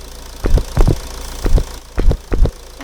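A car engine runs nearby with rough, uneven pulses, five or so throaty bursts like revs or knocks rising over a low idle rumble.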